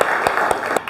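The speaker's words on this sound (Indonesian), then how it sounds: "tepuk tangan untuk kita semua" Audience applause in a classroom gathering rings out briefly, a burst of clapping with a few sharper claps standing out, fairly loud but short.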